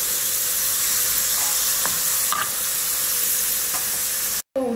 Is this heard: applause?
no